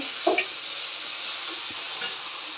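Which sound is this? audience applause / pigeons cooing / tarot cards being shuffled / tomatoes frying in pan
tomatoes frying in pan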